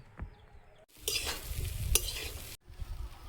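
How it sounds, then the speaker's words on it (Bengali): Jukti flowers frying with potatoes in a pan, a quiet stir followed by a burst of bright sizzling hiss with a metallic clink, then a sudden drop back to faint kitchen noise. "যুক্তি ফুল আলু দিয়ে ভাজা হয়ে গেছে, তুলে নেব"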